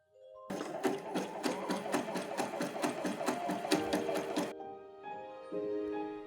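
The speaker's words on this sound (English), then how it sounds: "After I zigzag stitch my weft threads into place, I then wet finish my towels." A sewing machine zigzag stitches the weft threads along the edge of handwoven towels, running in a fast, even mechanical chatter for about four seconds before stopping, followed by a quieter hum.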